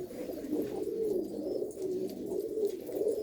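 Malwai pigeons coo continuously in soft, rolling, low calls that overlap one another, close by with no talk.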